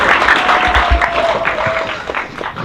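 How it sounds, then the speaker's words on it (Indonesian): Brief crowd applause from young Islamic boarding school students at a casual youth gathering, clapping mixed with a faint sustained tone and some murmuring, tapering off toward the end. "Tepuk tangan, masya Allah."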